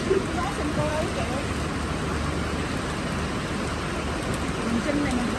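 Heavy rain pours steadily in strong wind in rural Vietnam, where farmers are moving flocks of ducks, a dense, unbroken hiss that runs the whole time with no breaks.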